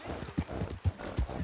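A horse in Red Dead Redemption 2 clip-clops faintly, its hooves thudding in four soft, evenly spaced beats over a low hum of ambience.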